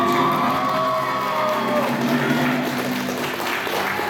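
An anime convention audience at a quiz-show-style game claps and cheers continuously, with whoops and excited shouts mixed into the loud crowd noise throughout.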